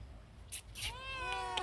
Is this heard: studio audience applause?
no